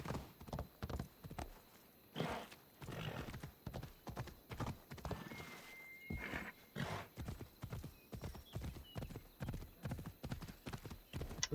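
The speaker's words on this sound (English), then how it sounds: "You ride your horse in the water if you want." Horse hooves clip-clop steadily through the countryside in Assassin's Creed Odyssey, a regular walking rhythm of close, crisp beats, with occasional splashy bursts and a brief whinny-like tone.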